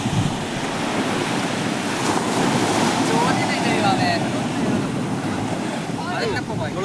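Rough ocean surf at a beach, a loud continuous roar of breaking waves mixed with wind buffeting the microphone.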